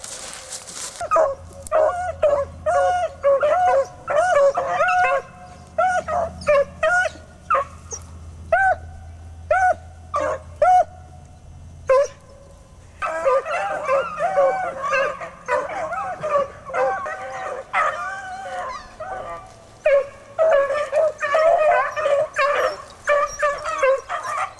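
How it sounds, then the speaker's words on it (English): Hunting dogs bay and yip repeatedly while chasing a rabbit outdoors, a steady run of excited barks and whimpers that are fairly close and carry on through the whole stretch without talk. "I think he's kind of nervous hearing these dogs running."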